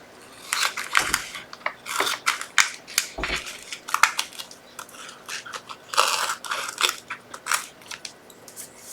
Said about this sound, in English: Alright, so I'll just get my scissors and cut that.